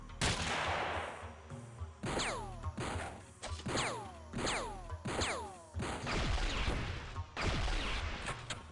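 Three grenades going off in the video game X-piratez: a rapid string of loud, sharp blasts and crashes with ringing falling tails, repeating over several seconds.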